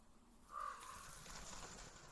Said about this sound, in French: Je peux aller le voir, le corbeau?